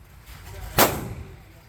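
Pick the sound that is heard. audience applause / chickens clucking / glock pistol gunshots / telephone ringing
glock pistol gunshots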